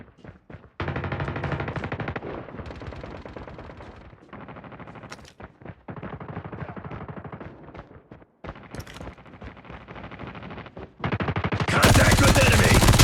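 Sustained machine gun fire in the mobile shooter Call of Duty Mobile, loud and near, in long continuous bursts with brief gaps, ending in a louder, noisier blast.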